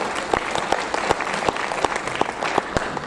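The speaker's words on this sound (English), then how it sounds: "please give yourself a hand of applause for attending our 10-year anniversary." Audience applause at a social media marketing conference's 10-year anniversary opening keynote, a steady patter of many hands clapping throughout, fairly close and full, with no talking over it.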